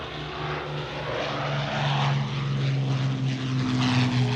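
A WWII bomber's propeller engines roar loud and steady as the aircraft flies past, a sustained throbbing drone with a strong low hum and no voices.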